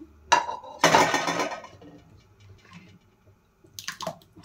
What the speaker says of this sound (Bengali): ঢাকনা উঠিয়ে এখন একটু দেখে নেব আমি